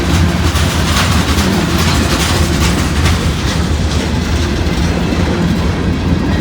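A long train rolls along street-running track through La Grange, Kentucky on a dreary day, a close, loud, continuous rumble with steady clickety-clack of wheels over rail joints and occasional faint squeal.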